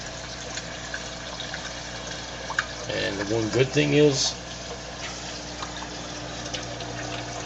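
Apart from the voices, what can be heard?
water flowing in a DIY sump tank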